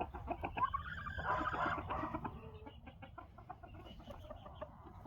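A rooster and hens in a backyard breeding coop with hatched chicks, giving close, low clucks and a short rising call, fairly quiet, with soft coop rustling and no talking.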